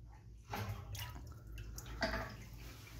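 A toilet in an apartment in Lima, Peru, flushes with a quiet rush of swirling water that rises in a few surges and then keeps running softly.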